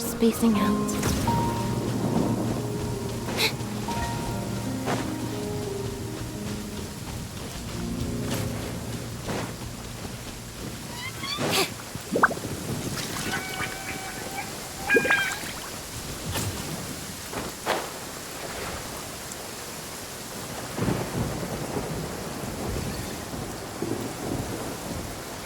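Rain patters steadily in a video game while thunder rumbles and cracks at intervals, loud and close, with music tones and other game sounds mixed in.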